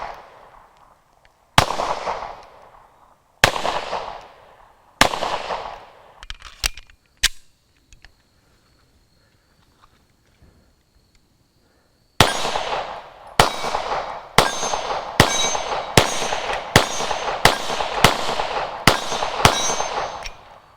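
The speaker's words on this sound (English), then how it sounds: "So when you shoot this gun, it feels like the gun comes straight backwards." Hudson H9 pistol fired outdoors: several spaced single shots, a pause, then a fast string of about ten loud sharp reports with ringing decay.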